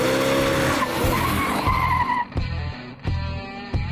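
A 1967 Camaro SS396 convertible with a 375 horsepower engine squealing its tires hard in a smoky burnout, a loud continuous screech over a deep engine roar that pulses as the revs rise and fall.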